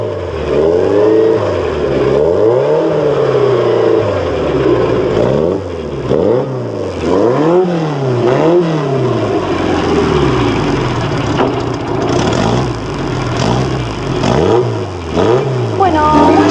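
A small Renault Dauphine Gordini car engine revs repeatedly up and down, loud and close, with rising and falling pitch in a steady rhythm.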